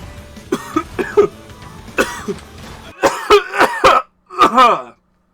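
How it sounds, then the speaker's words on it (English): A series of harsh, wet coughs, first a few spaced bursts, then a rapid cluster of loud hacking coughs, with a brief pause before a final fit. "that was a bad cough."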